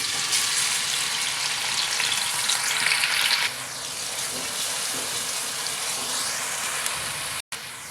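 Finely chopped onion fries in oil in a kadai on a lit stove, a dense, loud, continuous sizzle that eases slightly partway through and drops out abruptly for an instant near the end; no one talks.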